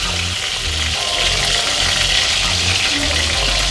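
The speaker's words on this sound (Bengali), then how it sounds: "আজকে একটু ডিপ ফ্রাই করছি ভালো লাগবে ক্রিস্পি ক্রিস্পি" Food deep frying in hot oil makes a loud, dense, continuous hiss and bubbling roar, close and unbroken with no voices.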